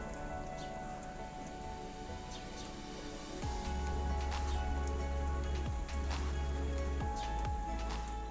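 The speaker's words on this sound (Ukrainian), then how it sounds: "звук дощу та спів птахів за вікном налаштовують на максимально спокійний день" Steady rain patters outside a window with a constant wash of drops, growing heavier partway through, while a few birds chirp faintly in the background.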